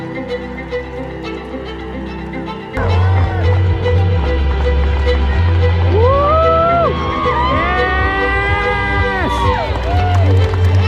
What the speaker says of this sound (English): Crowd's building here, last couple 100 meters.